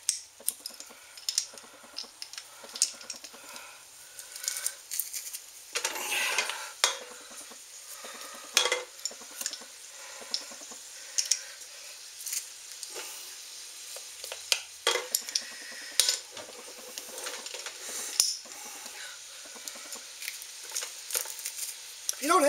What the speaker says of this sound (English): We're going to be adding our leeks and our minced garlic.